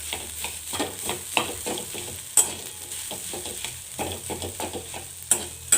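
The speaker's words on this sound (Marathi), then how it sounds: "इथे मी थोडासा चाट मसाला टाकून घेतला व्यवस्थित मिक्स करून घ्यायचं" A spatula stirs potato bhaji with chaat masala in a pan in quick, rhythmic strokes. Each scrape and tap sounds clearly over a light, steady sizzle, up close and with no voices.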